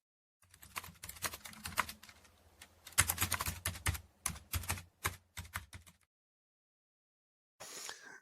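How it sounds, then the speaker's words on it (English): Stock computer keyboard typing effect from iMovie: fast, irregular clatter of keystrokes in bursts for about six seconds, then silence and a brief final rustle. "Is that you like ferociously typing on your own computer and you just recorded it?"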